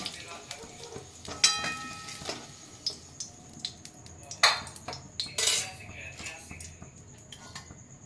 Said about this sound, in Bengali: এবার আমি আলুগুলো তুলে নিচ্ছি।